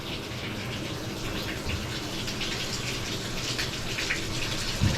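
Water from a new Delta replacement shower faucet runs steadily in a home shower, a constant hissing spray with faint splashes and a brief knock near the end.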